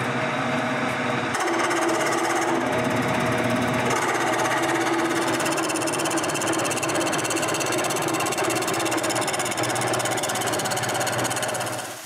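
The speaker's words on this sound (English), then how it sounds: "So I do the rest on the lathe." A wood lathe turning wooden dowels runs loud and continuously, a dense rattling, chattering whir with steady cutting noise and brief shifts in tone, with no voices.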